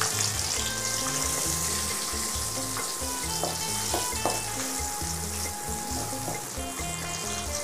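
Chopped onions frying in a pan for egg kara kuzhambu give a steady, loud sizzle, with a few clinks of a spoon against the pan partway through and no talking.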